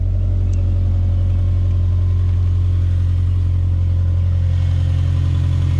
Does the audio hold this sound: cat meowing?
no